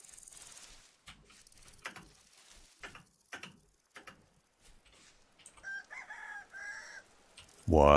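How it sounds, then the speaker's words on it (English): Chickens cluck and a rooster crows in the Vintage Story survival game, with scattered clucks and ticking sounds early on and a loud, close crow at the end. "Piggies and chickens."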